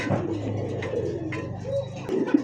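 Pigeons coo softly among fancy breeds such as Lahori, Bombay and satinette, their low, rolling calls repeating steadily over a busy, close background with faint rustling.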